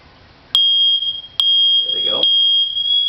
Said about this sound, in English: This is going to be a test of my smoke detectors using incense